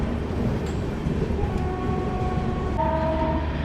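A passenger train runs on a parallel track on the Okhla–Mathura line out of Hazrat Nizamuddin, Delhi, producing a steady close rumble of rail noise, with thin whining tones that rise and strengthen toward the end.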